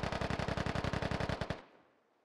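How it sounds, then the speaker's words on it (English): Video game shootout gunfire: a sustained automatic burst of about eighteen evenly spaced, loud, heavy shots lasting around a second and a half, then a decaying echo tail that fades out, with no voices. "Zeke and Trident having a shootout."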